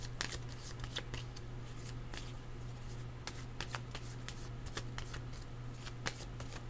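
Tarot cards are shuffled by hand at close range, a quiet, continuous riffle of rapid papery flicks and soft taps over a low steady hum.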